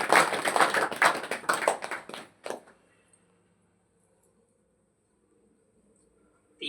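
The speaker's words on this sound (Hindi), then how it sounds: "एक बार ताली बजा करके" An audience at a spiritual discourse gathering in Nashik, Maharashtra claps in welcome for about two and a half seconds, a brisk burst that stops abruptly and gives way to near silence.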